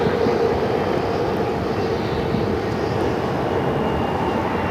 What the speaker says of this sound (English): This Alaska Airlines 737 MAX 9 is going to be going to Seattle.